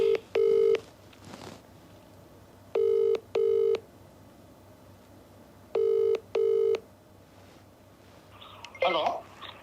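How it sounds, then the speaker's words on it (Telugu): Several paired electronic ringback tones on an outgoing phone call, sounding in evenly spaced bursts with quiet gaps between them, followed by a brief voice near the end. "రింగ్ అయితే అవుతోంది"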